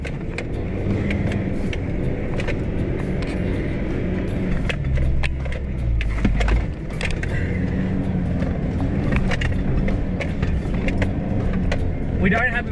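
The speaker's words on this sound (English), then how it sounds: "we're just trying to keep the momentum going so that we can get through this soft sand" An automatic car with a small lift kit labors steadily as it pushes through soft beach sand, with creaks and rattles from the cabin, while people talk over it.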